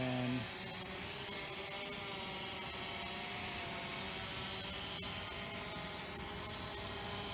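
Steady high-pitched motor whine of an Eachine 520S drone in flight after an auto takeoff, continuous and fairly close, holding an even pitch with a brief voice at the very start.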